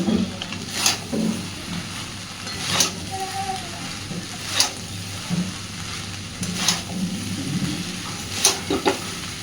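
Leftover rice being stirred and fried in a pan, a continuous close sizzle punctuated every couple of seconds by sharp spatula knocks and scrapes against the metal.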